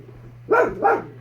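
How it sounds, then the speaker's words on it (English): A household dog gives two close, loud barks over a steady low hum, indoors, with no talk. "Willie, our dog barks."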